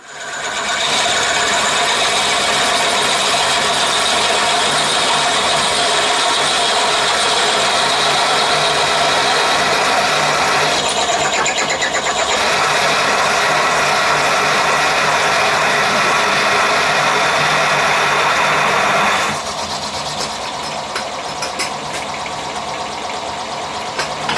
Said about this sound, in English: I'm going to put a milling cutter down through here first just to try and make the hole round and clean it up.